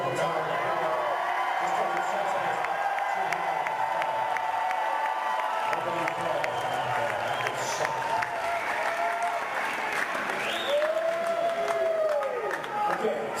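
A theater audience at the Chicago Theatre applauds steadily throughout, with dense clapping, scattered whoops and cheers, and a few voices rising above the crowd noise.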